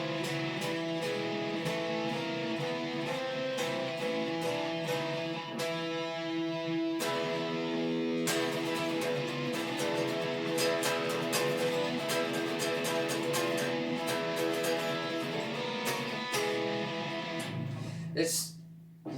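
An electric guitar played through distortion runs through a sequence of power chords, strummed in a steady rhythm with sustained, buzzing chords and a few sharp changes, loud and continuous throughout.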